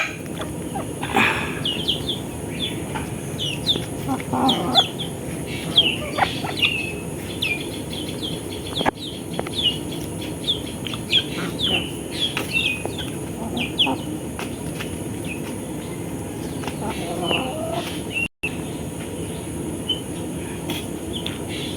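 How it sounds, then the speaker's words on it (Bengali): Desi laying hens on a village poultry farm cluck and call in scattered short bursts over a steady background hum, several birds close by and others farther off, with no talking. "মাশাআল্লাহ, এগুলো সব ডিম পাড়া মুরগি।"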